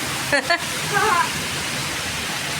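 Heavy rain pours in a constant loud wash, with a few short bursts of nearby voices over it early on.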